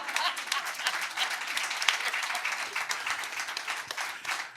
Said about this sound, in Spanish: No chinguen cómo aplauden esa ridiculez, ¿no?